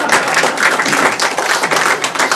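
Steady applause from a room of people at a city aldermen meeting, dense clapping at a constant level throughout the short stretch, with no talk.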